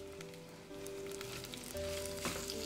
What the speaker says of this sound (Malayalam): ഇതിലേക്ക് ആവശ്യത്തിനുള്ള ഉപ്പും കൂടെ ചേർത്തിട്ട് സവാളയെ നന്നായിട്ടൊന്ന് വഴറ്റിയെടുക്കണം.